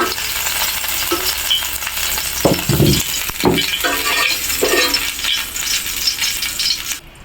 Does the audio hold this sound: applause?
no